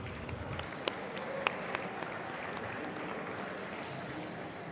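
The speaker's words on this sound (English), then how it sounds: "Can we please give a round of applause to our band?" Steady applause from a banquet audience for the band at an engineering awards dinner, a dense, fairly quiet wash of clapping with a few sharper claps standing out, lasting throughout.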